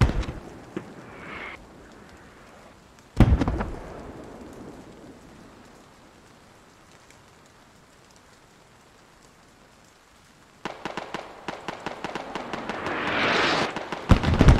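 Artillery fires in the SquadOps shooter: two sharp blasts stand out against quiet background noise, then a fast crackling string of shots builds up near the end.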